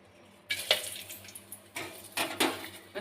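Whole spices (bay leaf, cardamom, cinnamon and cloves) hit hot oil in a pan, sending up sudden loud bursts of sizzling that flare again in several close, uneven waves.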